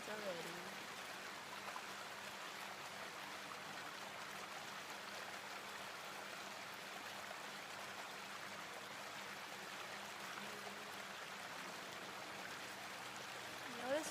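Steady water flowing at an outdoor meditation spot in Phnom Penh, Cambodia, a continuous soft rushing wash with an even level throughout, joined by faint tonal sounds near the start and end.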